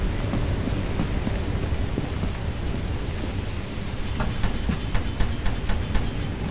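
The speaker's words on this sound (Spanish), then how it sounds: "Está lloviendo, pero no hay tormenta" Steady rain pours down in a video game as a dense, continuous wash of noise, with occasional sharper patters rising toward the end.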